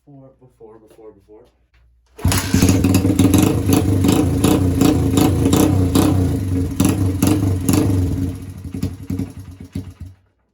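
A 1979 Honda XR80 motorcycle, left sitting for a year, starts after brief faint talk and runs steadily at close range for about eight seconds with some revving, then cuts out.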